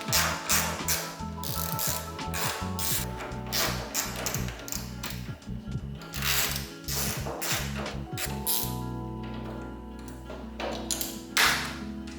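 A ratchet with a 10 mm socket clicks in rapid, repeated bursts while loosening the hood roller guides on a BMW E30. The close, metallic ratcheting pauses briefly between strokes and comes with occasional taps and pings.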